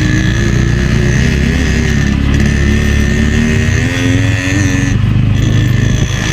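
An RX motorcycle engine runs loud and close, a throbbing idle that rises in a couple of revs before settling, with no talk over it.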